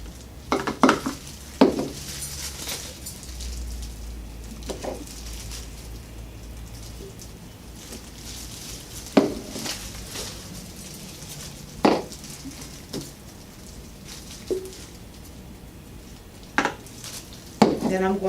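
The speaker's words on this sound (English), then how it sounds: "I am going to put the peroxide developer inside of the bowl first" Liquid peroxide hair-dye developer being poured into a mixing bowl, heard as a few soft, sporadic clinks and taps of bowl and container against a quiet room background, with no talking.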